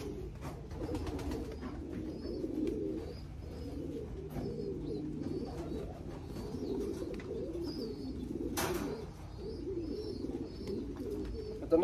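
Racing pigeons, including a blue check cock with no white flights, are loosed from a loft for low flying before a race entry, with steady close cooing throughout and a brief flutter-like burst near the end.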